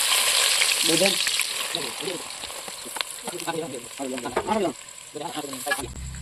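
Onion frying in hot oil with cumin and fennel seeds for a cashew paneer curry, a steady hiss and sizzle running throughout while a voice talks intermittently over it.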